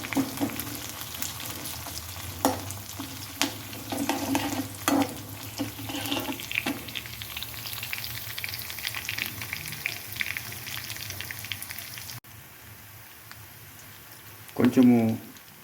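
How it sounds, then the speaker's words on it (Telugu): Onions frying in a pan for egg gravy and stirred with a ladle, a steady sizzle with scraping strokes through the first part and a voice talking over it. "గరిటెతో తిప్పుకోవాలి."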